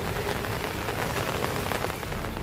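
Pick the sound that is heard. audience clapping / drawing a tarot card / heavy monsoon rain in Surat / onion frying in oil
heavy monsoon rain in Surat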